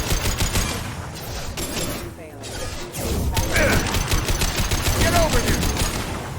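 Rapid bursts of gunfire crackle through a firefight in Mass Effect 2 (Legendary Edition), with dense overlapping shots and a brief lull midway, under shouted voices.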